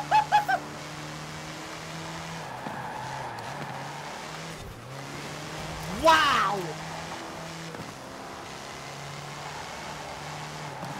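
A D-class car is driven in Forza Horizon: a steady low engine drone runs throughout, with a brief louder swell midway, and a player gives a short exclamation at the start.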